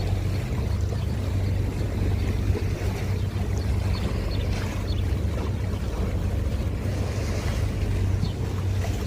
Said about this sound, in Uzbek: To'lqinni qarang, dengiz to'lqinlari.